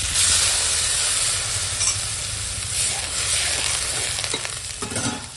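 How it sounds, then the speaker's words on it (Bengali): Vegetables fry in a pan with loud, close, unbroken sizzling and soft stirring scrapes, no voices heard. "দেখো এখন সবজিটা ভালো করে ভাজা হয়ে গেছে"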